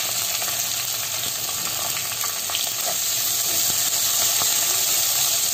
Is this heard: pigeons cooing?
no